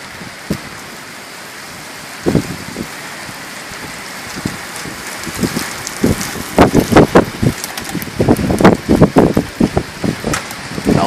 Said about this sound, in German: Also der Regen, also es regnet zwar